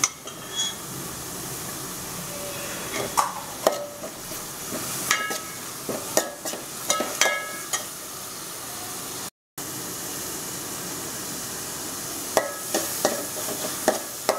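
Onions and curry leaves fry in a pan, a steady sizzle broken by repeated scraping stirs of a spoon, close and moderately loud, with a brief dropout midway and no talking.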